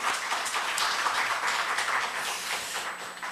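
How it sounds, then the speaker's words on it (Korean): A church congregation at a Wednesday service gives a short burst of scattered hand clapping that stays steady and moderately loud throughout, with no voices heard. "한번 박수라도 격려해 줬으면 좋겠습니다."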